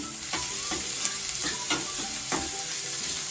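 Sliced onions frying in a pan for tomato gojju, a steady bright sizzle with periodic scraping stirs of a spoon against the pan, close and with no talking.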